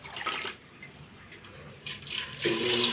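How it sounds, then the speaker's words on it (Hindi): Water poured from a vessel over washed, soaked chickpeas in a pot, short splashing bursts with a brief pause, then a louder gush at the end, close and alone. "अब मैं इसमें डाल देती हूँ पानी।"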